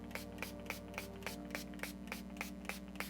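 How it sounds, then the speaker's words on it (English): Makeup Revolution Conceal and Define setting spray misted onto a face in steady, evenly spaced pumps, about a dozen short hissing bursts close by, over a low steady hum with no talking. "I'm gonna go in with the Conceal and Define spray by Makeup Revolution here."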